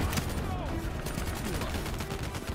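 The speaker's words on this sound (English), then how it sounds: "I don't even know who I'm shooting at this point" Dense, chaotic gunfire in the Call of Duty Black Ops III video game, with constant overlapping shots and bursts filling the whole stretch, loud and continuous.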